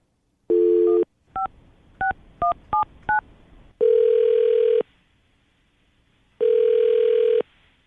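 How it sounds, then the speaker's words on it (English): A phone number is keyed in as a quick run of separate DTMF tones after a short opening beep, followed by two long, loud ringback tones with a gap between them. Nobody speaks. "we're going to call her right now, see if we can get her on the phone"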